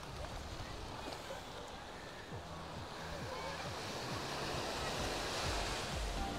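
Waves wash onto a beach at Playa Del Carmen as a steady, faint roar of surf, with wind buffeting the microphone and a murmur of voices mixed underneath.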